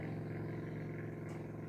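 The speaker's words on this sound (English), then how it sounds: "we will hear this boat until you can't even see it anymore. It's so noisy" A noisy boat engine drones steadily at close range, a low continuous hum with no voices over it.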